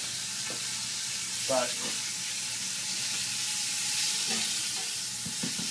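Oil sizzles steadily in a frying pan with a soft continuous hiss, a few brief utensil clinks and a short spoken word over it.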